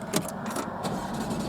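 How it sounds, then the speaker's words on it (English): A Porsche Cayman with a 2.7-litre 24-valve engine and PDK gearbox starts up, a brief burst of cranking over a low mechanical hum that settles into a steady idle, heard close and alone. "we'll start the car up"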